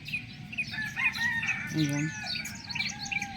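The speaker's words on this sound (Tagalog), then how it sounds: "So nakinig lang muna ako dito sa mga mga ibon natin." Backyard birds chirp and a rooster crows in a lively mix of overlapping calls, with the crow rising in the middle and a brief word spoken.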